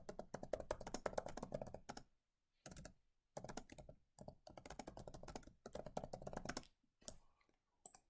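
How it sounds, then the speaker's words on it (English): Quiet bursts of rapid key tapping on a computer keyboard come in several runs separated by short silences, close and crisp. "click, and start typing."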